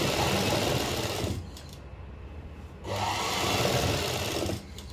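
A sewing machine stitching a salwar waistband hums in loud, close, continuous runs, pausing briefly in the middle before starting again and stopping near the end.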